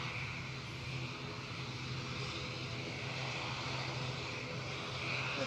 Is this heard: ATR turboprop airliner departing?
yes